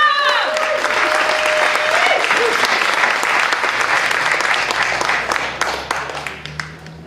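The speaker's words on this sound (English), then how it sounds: "Big round of applause" An audience at a comedy show applauds loudly and steadily, with a few whoops at the start, then the clapping slowly fades toward the end.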